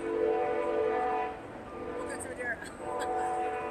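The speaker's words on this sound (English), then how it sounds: "talk about the train going by. We'll give the train a second." Train passing by with its horn sounding at a press conference outside the Superior Court in Madera, California; a steady rumble with sustained horn tones that fade, then brief higher whistle-like blasts later.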